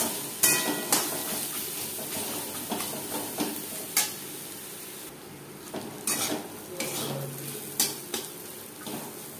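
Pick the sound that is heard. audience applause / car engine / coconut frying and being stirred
coconut frying and being stirred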